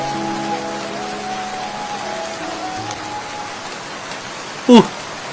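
Cartoon rain falls in a steady, even patter beneath a sustained tonal drone, with a sharp brief sound near the end; no voices are heard.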